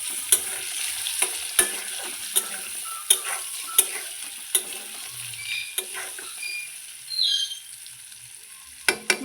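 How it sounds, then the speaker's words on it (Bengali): Potato pieces with turmeric and salt hiss softly in a pan, with regular sharp ticks of a utensil stirring and scraping every second or so, and a brief louder sizzle near the end. "একটু হলুদ লবণ দিয়ে আলুটাকে ভালো করে ভেজে নেব"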